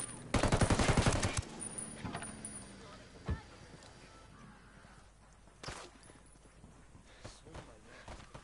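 Gunfire aimed at a van's tyres in Ghost Recon Wildlands opens with a loud rapid automatic burst, then gives way to a few scattered single shots over quieter game ambience with voices.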